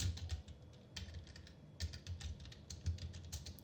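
Code typed on a computer keyboard, with quiet, close keystrokes in quick clustered bursts separated by brief pauses, no talk.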